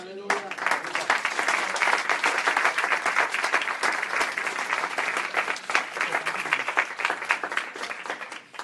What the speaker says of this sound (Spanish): Da un aplauso, Señor.